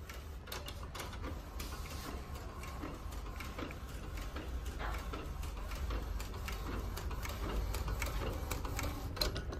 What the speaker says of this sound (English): So recheck the video and check at what speed it's printing.